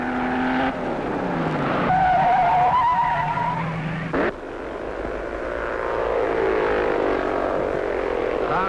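Rally cars in the 1960 Acropolis Rally sweep through a bend, engines revving and rising in pitch with tire noise, loud and close through an old scratchy film soundtrack, with a brief break midway.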